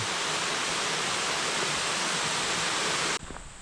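Waterfall on Bukhansan mountain in autumn, a steady loud broadband rush of falling water that stays constant throughout and drops off abruptly near the end.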